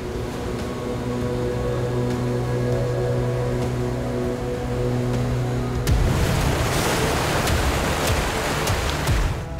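Ocean waves on the Konkan coast, a continuous wash of surf under a low droning hum that stops partway through, after which a louder, fuller wave roar takes over.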